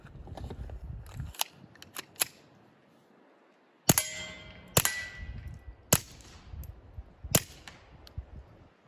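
A suppressed Smith & Wesson .22 Compact pistol with a Rugged Mustang suppressor fires Aguila 40-grain subsonic solid-point rounds: about six sharp, muted cracks at irregular intervals with metallic clinks, close by, with no talk.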